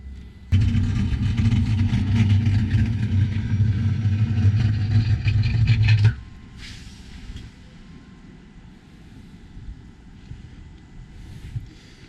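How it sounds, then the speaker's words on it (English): A powered engine hatch lowers over twin 8.2 engines on a Formula 31 PC express cruiser, a steady loud mechanical whir for about five and a half seconds that cuts off abruptly, leaving quiet ambience. "with the touch of a button, we close the engine hatch"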